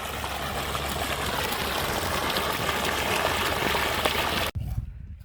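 Water from a 900W BLDC motor pump gushes steadily into a farm field channel, a loud continuous broadband rush that cuts off abruptly near the end, leaving a quieter background.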